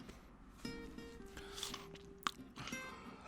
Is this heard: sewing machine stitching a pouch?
no